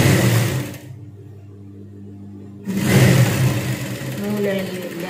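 A home sewing machine stitching a bedsheet, running in a loud, steady whirring burst, stopping for about two seconds, then starting again, with someone talking over it.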